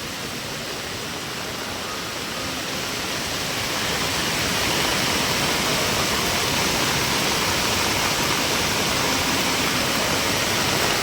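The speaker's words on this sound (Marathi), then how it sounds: "तर कसलं पोर्सने पाणी जात आहे" Powerful rushing water of a flooded river swollen by monsoon rain in Konkan roars steadily and loudly, swelling slightly after a few seconds, a dense continuous torrent close by with no voices.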